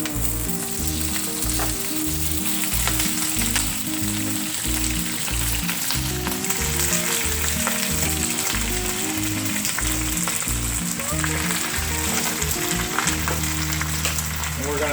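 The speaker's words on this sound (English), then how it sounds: "We're gonna go ahead and add our spinach." Spinach sautéing in hot oil over an outdoor fire, a loud continuous close sizzle and crackle with occasional stirring, no voices.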